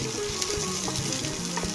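Finely chopped onion frying in a pan, giving a dense, steady crackling sizzle with light spatters and faint stirring taps, close and unbroken.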